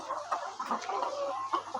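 Layer hens showing cholera symptoms cluck in short, repeated bursts close by, several birds overlapping in a busy flock with no voices.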